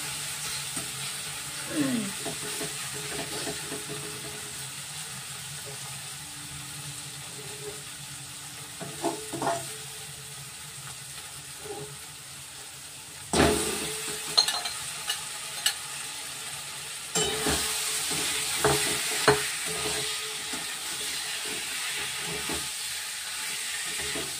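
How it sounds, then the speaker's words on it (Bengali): Chicken pieces frying in hot oil for chicken masala, with a steady sizzle and intermittent scraping stir strokes, louder bursts of sizzling as more is added partway through; no talk. "আমি এবার চিকেনটা দিয়ে দেবো"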